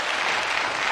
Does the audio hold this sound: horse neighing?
no